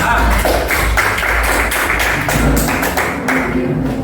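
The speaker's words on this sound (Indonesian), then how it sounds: "Oke, kita tepukan untuk kelompok 3 dulu." Classroom applause for student group 3 before their algorithm presentation, a steady loud patter of many hands clapping throughout, with faint voices mixed underneath.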